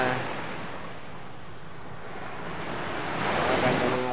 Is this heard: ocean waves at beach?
yes